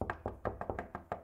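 In the video game Hazing Night Shift, someone knocks on a door in seven quick, evenly spaced raps, faint and hollow, with no voices over them.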